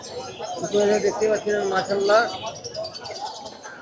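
Caged birds at the Mirpur bird market chirp and whistle in a lively cluster of close, overlapping calls that thin out into scattered, fainter tweets, with market chatter in the background.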